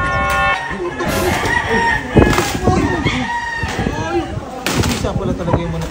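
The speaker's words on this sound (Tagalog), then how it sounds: "Isa pala talaga yung manok dito." A rooster crows loudly nearby, with clucking fowl and people talking over it, plus an occasional bang.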